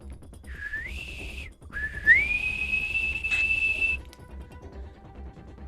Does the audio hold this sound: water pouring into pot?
no